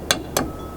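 Egg cracked for Dutch oven blueberry muffin batter: two quick, sharp taps on a hard rim, close and crisp, about a quarter second apart, with no talking.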